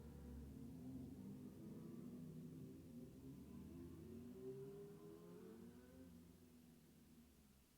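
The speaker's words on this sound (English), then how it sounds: "There's a motorcycle outside my window, so if you hear this funky humming sound, that's a motorcycle." A motorcycle idles outside a window, a steady low rumbling hum with a wavering drone that holds throughout and fades slightly near the end.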